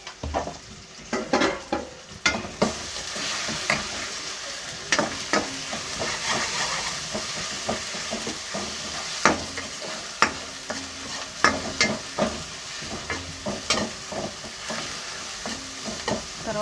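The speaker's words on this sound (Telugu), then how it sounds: "మాడకుండా ఇలా బాగా కలుపుకోవాలి." A frying mixture sizzles in a pan while a spoon stirs it, scraping in repeated irregular strokes over a constant close hiss; no one talks.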